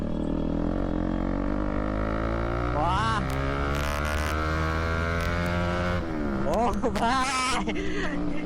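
A Pulsar NS 200 motorcycle fitted with an SC Project exhaust idles with a deep, throbbing drone, then revs sharply twice, each rise climbing and dropping back. A man exclaims in admiration over the engine.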